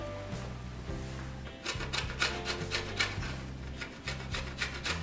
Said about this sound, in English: Now take a rasper and rasp the lemon zest into the saucepan.